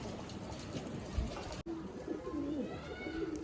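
Pigeons cooing softly nearby, low throaty warbles after a brief cut, against a light background hiss.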